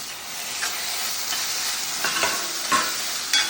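Chopped tomatoes sizzle in a hot frying pan while being cooked for a chicken dish, giving a steady broadband hiss with a few brief louder scraping bursts of stirring near the end.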